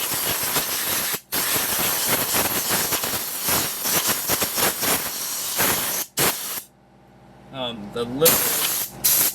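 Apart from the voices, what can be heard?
compressed air blowing clean hydraulic cylinder parts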